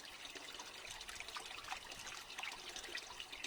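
A quiet, steady trickle of running water into a koi pond with faint bubbling and light splashes, continuing evenly with no talking.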